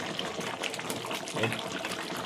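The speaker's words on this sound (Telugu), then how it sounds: "ఇప్పుడు కొన్ని వాటర్ వేసుకుందాం మనం" Water pours steadily for a couple of seconds into a cooking pot of chicken curry, a continuous splashing, gurgling rush close by.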